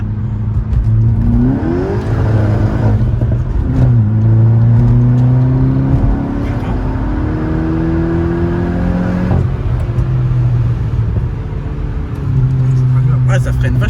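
Seat Ibiza Cupra Stage 1 accelerating hard with wheels spinning, engine revving up through several rising pulls and gear changes, loud from inside the car with people talking over it.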